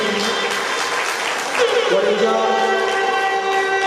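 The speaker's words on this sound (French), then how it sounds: "Applaudissez, s'il vous plaît" Applause from an audience rises and continues as a steady clatter of clapping, while a voice speaks over it.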